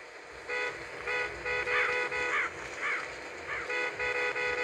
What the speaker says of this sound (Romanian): Dăm un claxon